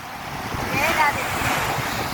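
Grey-sand beach at Rameswaram with steady ocean surf and wind rushing across the microphone, a continuous broadband wash that swells slightly midway, with faint voices in the background.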